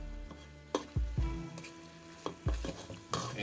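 A spoon stirs garlic and spices sizzling in oil in a pot of vegan chili, with soft frying hiss and several distinct scrapes and knocks against the pot at irregular intervals.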